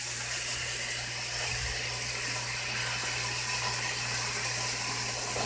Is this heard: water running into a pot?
yes